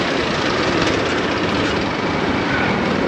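A Chinese motorcycle rides over small cobblestone streets in Antananarivo, Madagascar, producing a loud, constant engine drone and rattling vibration close to the microphone, with no talking.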